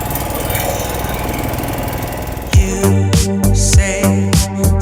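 A boat's motor chugs on a river outing on the Buribalam River, a loud, close mechanical drone that shifts partway through into a heavier, rhythmic knocking engine beat with bursts of water and hull noise, with no talking.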